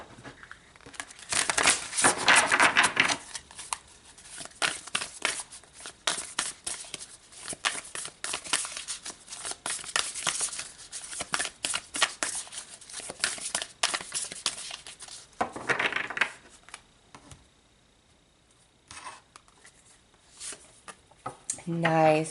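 Tarot cards shuffled and pulled, with papery crinkles, rustles and slaps close up, while a voice talks over much of it.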